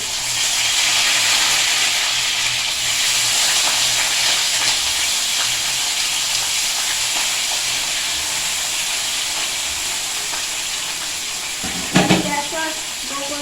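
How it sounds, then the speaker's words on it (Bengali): Morala fish frying in hot oil in a wok, a steady loud sizzle and hiss throughout, with a brief clatter near the end. "ভাজবো আমি তেলে দেখো কড়াই তেলটা গরম হয়ে গেছে"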